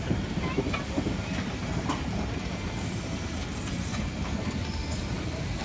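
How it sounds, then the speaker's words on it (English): A French steam train rolls along with a steady low rumble and faint rhythmic rail clatter, medium distance, with a few thin high squeals of wheels on the track. "This train runs on steam."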